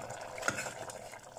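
Egg kurma curry bubbles in a pan on the stove with faint sizzling and a light scrape of a stirring utensil, quiet and close with no talking.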